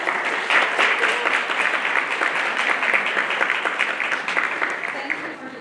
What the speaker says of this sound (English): Let's give another round of applause for